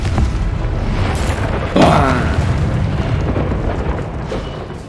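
A Confringo spell blast in Hogwarts Legacy bursts out as a single booming explosion with a crackling tail, set against a steady game soundscape.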